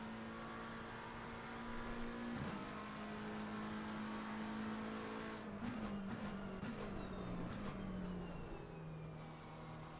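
GT race car in Assetto Corsa Competizione at Zandvoort, coming through the final turn onto a flying qualifying lap: a steady high engine drone with sharp gear-change dips and a falling pitch as it brakes, heard alone.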